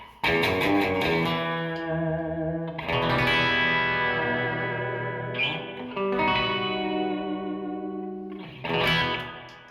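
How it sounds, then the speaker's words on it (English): A Squier Vintage Modified Jaguar electric guitar on the bridge pickup plays twangy sustained chords and notes soaked in splashy spring reverb, loud and alone, with a few restrikes near the end. "with the Jaguar bridge pickup, you've obviously got all your kind of classic surfy kind of, especially if we dial on some spring reverb"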